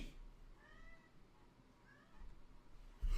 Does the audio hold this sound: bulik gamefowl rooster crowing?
no